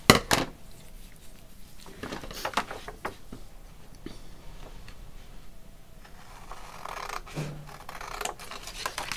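Scissors cutting out a piece for a handmade journal, scattered close snips and rustles of material with small handling clicks, quiet and intermittent.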